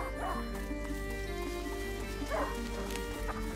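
In the video game A Plague Tale: Innocence, a hunting dog barks and yips a few times at middling distance over a steady ambient game backdrop, with a voice speaking briefly.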